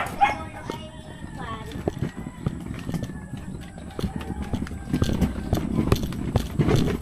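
A dog barks in short yips and bow-wows amid a busy outdoor scene, with footsteps or hoof-like clopping and people talking nearby throughout.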